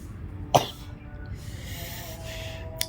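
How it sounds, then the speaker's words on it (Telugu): A single sharp cough rings out close by in a quiet room, followed by faint breathing and low background hiss. "నాకు అప్పుడే దగ్గు వచ్చేస్తుంది"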